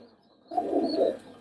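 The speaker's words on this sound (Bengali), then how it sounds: "এটা এক পেয়ার সোয়া কবুতর" A pair of tournament high-flying pigeons coo for about a second in a clear, close burst of soft, rolling calls that stop abruptly.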